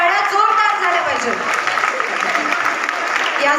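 Audience applause at a Haldi Kunku gathering: dense, steady clapping from a large crowd of women, sustained at even loudness for the whole stretch.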